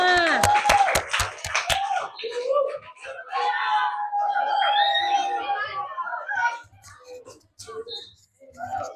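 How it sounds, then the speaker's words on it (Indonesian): Classroom of primary school children applauding a student group: a quick burst of about eight sharp claps, then excited children's chatter and shouting that fades to quieter talk. "Berikan aplaus buat kelompok 5"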